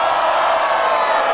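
A rap battle crowd cheers and shouts for a rapper, a loud sustained roar of many voices with whoops blending into one dense wall of noise.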